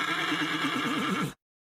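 Spooked horses neighing as fire and a loud blast panic them, a single loud, close whinny with a wavering, shaking pitch that cuts off abruptly into silence.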